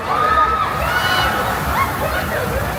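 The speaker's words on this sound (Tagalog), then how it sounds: "Binugaan ng tubig ang mga tatakbo." Fire crew hosing water over runners at a color fun run in a plaza, a continuous splashing spray that runs throughout beneath voices.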